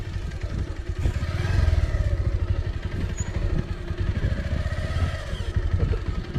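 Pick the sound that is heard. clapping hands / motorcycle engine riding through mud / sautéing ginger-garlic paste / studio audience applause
motorcycle engine riding through mud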